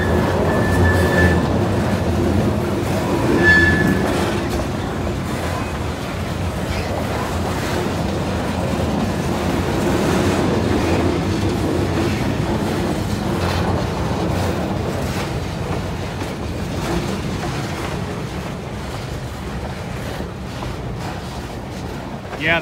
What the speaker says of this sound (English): Train coming up Chinese Hill.